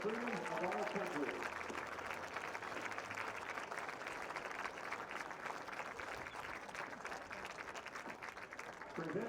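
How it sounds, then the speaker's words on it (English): Stadium crowd applauding veterans, ROTC members and new enlistees at a college football game, steady broadband clapping throughout, with a public-address voice faintly under it at the start. "join me in a round of applause to show our sincere appreciation"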